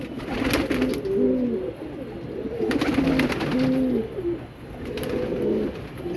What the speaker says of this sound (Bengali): এই কবুতরগুলোকে আমি খেতে দিচ্ছি আমি এই পাখিদের খুব ভালোবাসি